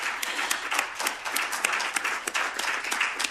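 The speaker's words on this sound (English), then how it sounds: "I feel we have to do a round of applause." Audience applause at a launch event in Melbourne, a brief stretch of steady, dense clapping from a crowd, moderately loud and continuous without pauses.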